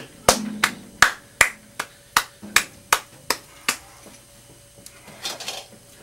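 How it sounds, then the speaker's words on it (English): One person, Gil, slowly claps about a dozen times in a fairly even rhythm, each clap sharp and close, with a few softer taps trailing off at the end. "Gil's giving us a little applause there."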